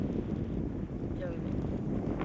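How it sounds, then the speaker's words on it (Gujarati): Cool wind blowing outdoors in rural Gujarat, buffeting a microphone as a steady, roaring low rumble that fills the whole stretch, close and loud, with a faint voice briefly under it. "મસ્ત ઠંડો ઠંડો પવન આવે છે ભાઈ"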